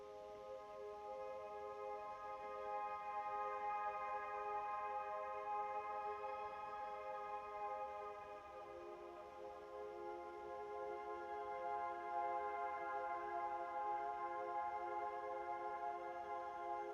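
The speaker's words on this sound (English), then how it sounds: "we have another pad that are layered with the first pad that is pitched up about an octave higher" A soft, sustained synth pad built in FL Studio, layered with a second pad pitched an octave higher, holds long, slowly shifting chords for about seventeen seconds for an ambient surf beat, quiet and smooth with no voices.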